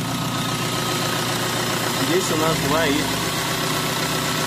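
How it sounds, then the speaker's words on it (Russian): A warmed-up car engine, being fitted with a turbo intake manifold, idles steadily with a close, even mid-pitched hum, while someone talks over it. "Машинка вышла на прогревочное, вернее на холостой ход"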